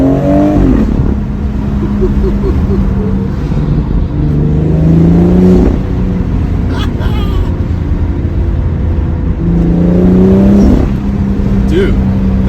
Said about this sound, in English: You can hear the turbo at pretty much full throttle.